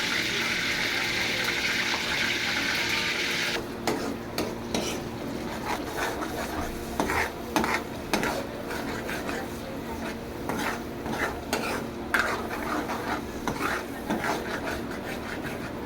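Curry leaves and spices such as coriander, garlic, ginger, cardamom and cloves hit hot oil for a chicken bhaji, first a steady bright sizzle, then quieter frying broken by repeated scraping and stirring clatter in the pan.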